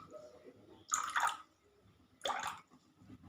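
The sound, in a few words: water being added to vinegar with a spoon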